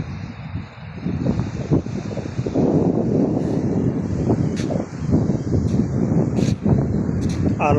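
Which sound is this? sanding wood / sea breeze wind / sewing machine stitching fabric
sea breeze wind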